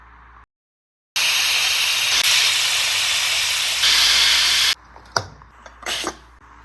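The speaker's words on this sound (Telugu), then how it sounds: "అప్ టు 5 విజిల్స్ వరకు ఉడికించుకోవాలండి." A pressure cooker cooking toor dal releases a loud, sustained steam whistle for several seconds, then falls quiet, followed by a few short kitchen clatters.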